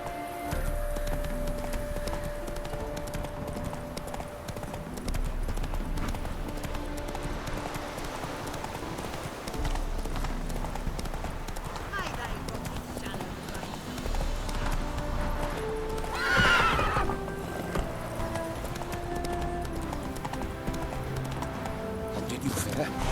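Hooves of the horse Roach clip-clop in a steady gallop in the video game The Witcher 3, heard continuously under voices and game sound, with a brief louder swell near the end.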